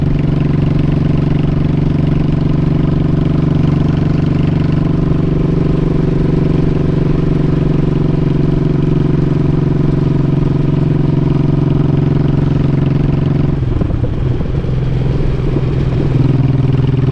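Engine of an old Honda Shadow motorcycle running steadily at close range with a deep, even idle-like drone, briefly roughening and shifting near the end; no talk.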